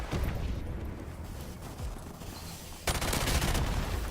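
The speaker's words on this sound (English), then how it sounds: "G36C assault rifle." A G36C assault rifle in Modern Warfare Remastered fires a dense, continuous stream of shots, a steady crackling wash that jumps louder for the final second.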